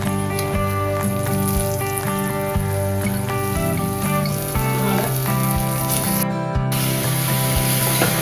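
Moth beans (matki) fry in oil for Kolhapuri misal, making a loud, even sizzle that hisses steadily and close throughout.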